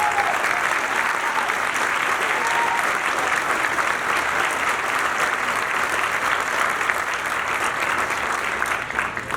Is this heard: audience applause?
yes